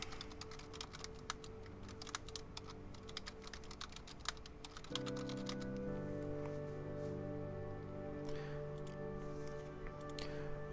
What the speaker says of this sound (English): I'll just type what we're doing today.